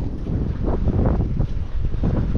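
Strong gusty wind, forecast to gust up to 45 miles an hour, buffets the microphone outdoors, giving a loud, rumbling low roar that surges in uneven pulses.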